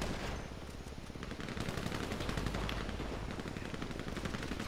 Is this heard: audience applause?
no